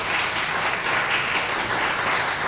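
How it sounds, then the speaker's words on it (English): Audience clapping at a Pints & Politics gathering, a dense, steady wash of many hands sustained evenly for a couple of seconds with no voices on top. "Clap if you're going to do that."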